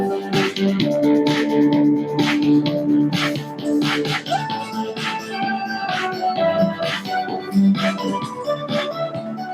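Intro bumper music for the Bocor Halus Tempo podcast, a dense, loud band arrangement with sustained chords and rhythmic hits, running continuously without any voices.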